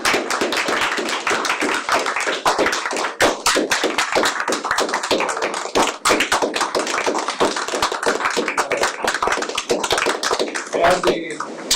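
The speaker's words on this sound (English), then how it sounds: "Please join me with a round of applause for Mary." A room full of people applauds for Mary at a school board meeting, with dense, steady hand clapping that runs loud and sustained throughout, a few voices faintly underneath.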